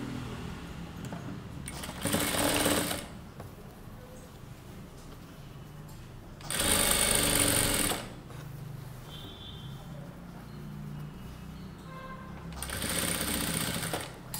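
A sewing machine runs in three short bursts of top-stitching along the lining edge of a neckline finished with fusing, each burst lasting about a second with quiet pauses between.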